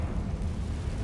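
A Confringo fire spell explosion in the video game Hogwarts Legacy, a brief deep rumbling boom with a heavy low roar and no talk.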